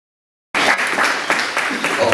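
Applause at a church conference in Dodoma: after a brief silence, hands clap in a dense patter for a couple of seconds, close and lively, with voices mixed in.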